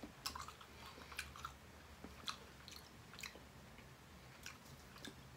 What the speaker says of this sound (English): I'm just gonna crunch down.